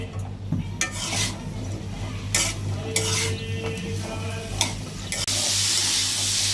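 A spoon stirs spices into new potatoes and rohu fish in a hot pan, giving repeated scraping and clinking strokes over a low sizzle, close and busy with no talking.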